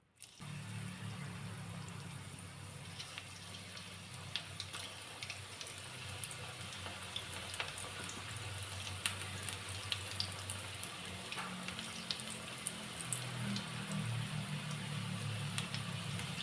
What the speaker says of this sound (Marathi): भजे केल्यासारखं आपण हे तळून घेणार आहोत